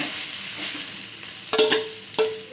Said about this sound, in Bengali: আর আলুটা দিয়ে ভালো করে কষিয়ে নেব